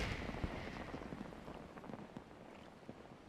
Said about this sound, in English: It's a really nice little fireworks show.